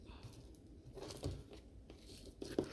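An aloe leaf has its skin peeled back by hand, giving a faint, close, wet tearing and crinkling in a few short bursts over a quiet background.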